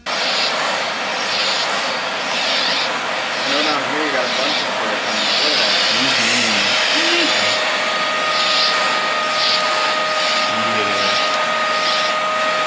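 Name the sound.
dog grooming vacuum running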